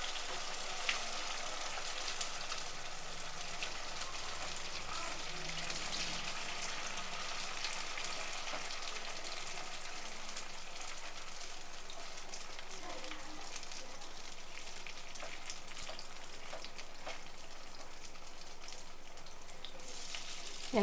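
Batter for Gujarati roti hisses and crackles as it is poured into hot oil in a pan, a steady close frying sizzle with scattered pops running throughout, no voices heard.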